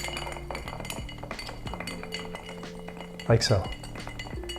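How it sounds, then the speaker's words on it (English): A big ice cube is stirred in an Old Fashioned glass, giving a few bright clinks and taps and one louder knock near the end, while someone talks softly over it. "So now that we have our big rock, gently set it down and stir."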